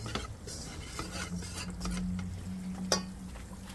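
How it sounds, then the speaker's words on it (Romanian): Starch and flour frying with onion in a pan, giving a steady low sizzle with scraping and stirring, plus a brief sharp clink of a utensil near the end. "Și acum prăjim puțin amidonul, făină și cu ceapă."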